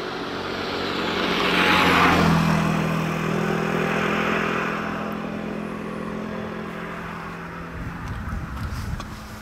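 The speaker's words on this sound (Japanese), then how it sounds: "バイクだ、バイク。" A motorcycle passes on a mountain pass road, its engine drone swelling as it approaches and then fading into the distance over several seconds, with no talk.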